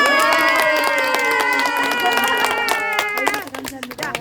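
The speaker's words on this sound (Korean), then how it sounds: "함성 박수 시작." At a group recreation session on a farm during a healing camp, participants let out a loud, sustained cheer that gives way to a short burst of clapping near the end.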